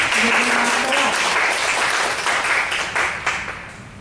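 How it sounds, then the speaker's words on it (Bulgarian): Applause from the audience at a Plovdiv writers' society literary awards ceremony, a dense, steady round of clapping that gradually thins toward the end. "Отново аплодисменти."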